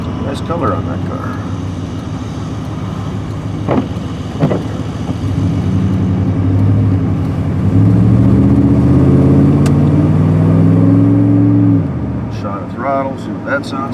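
A Jaguar convertible engine drones steadily past on a chilly day, the note rising and swelling in the middle before cutting off, with someone talking over it.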